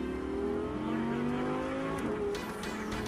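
A car engine revs and accelerates, its pitch climbing steadily before settling, loud and near with no talking.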